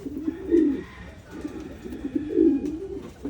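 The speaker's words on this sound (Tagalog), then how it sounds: "Problema, lumabas mga kalapatids." Pigeons coo repeatedly nearby during free flight training, with two soft, low rounds of cooing alone over faint outdoor background.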